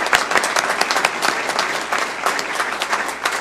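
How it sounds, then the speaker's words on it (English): A burst of steady applause for educators at a school board meeting, dense clapping from a crowd that carries through without pause. "let's give a round of applause to May Creek educators"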